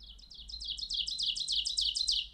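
Ovenbird song from a recording: a rapid series of repeated two-note phrases growing steadily louder over about two seconds, clear and alone.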